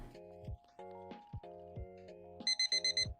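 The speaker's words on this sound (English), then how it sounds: "It creates this really annoying beep" Electronic beeps of the kind sounded by an exam computer: repeated short tonal chirps with a few harsh low clicks, ending in a quick run of five higher pips, faint and isolated.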